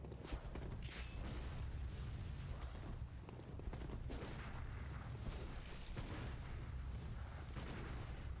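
Enemy gunfire in Bloodborne sounds as a run of faint, repeated sharp shots and booms over a dense combat din, with clanks and thuds throughout and no speech.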